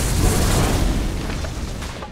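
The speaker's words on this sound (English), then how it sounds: "Dire's bottom tower is being attacked." Dota 2 tower under attack in a game match: a dense, continuous stretch of booming impacts and crackling blasts, loud and close, with no pauses and no voices.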